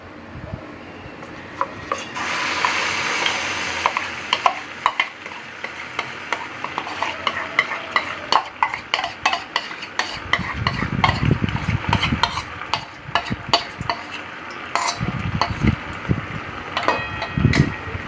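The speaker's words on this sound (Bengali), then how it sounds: "এবার আমি ব্যাটারটা তেলের মধ্যে দিয়ে দেবো।" Urad dal batter for Bengali kachori goes into hot white oil, bringing a steady sizzle joined by repeated spoon scrapes and clinks against the pan as it is stirred and mixed, close and fairly loud.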